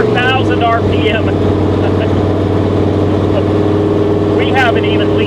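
Loud, close drone of a 1000hp 1959 Rambler's engine pulling toward 4,000 RPM, a steady low roar with layered harmonics, and speech breaking through at the start and near the end.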